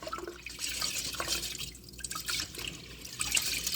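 Rice rinsed under running water in a kitchen sink, a steady close trickle and splash of water with scattered drips throughout.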